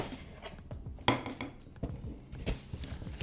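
Packaging rustles and a Tefal or Rondell frying pan clanks and knocks several times at close range as it is handled and unwrapped from its bag.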